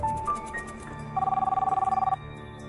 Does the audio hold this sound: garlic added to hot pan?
no